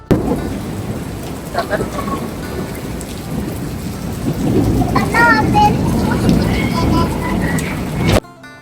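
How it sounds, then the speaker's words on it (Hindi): Heavy, intense rain pours steadily with a deep rumble of thunder, loud and close throughout, with faint children's voices and a few brief tones in the background before it cuts off. "बहुत ही तेज़ और ज़बरदस्त किस्म की बारिश हो रही है।"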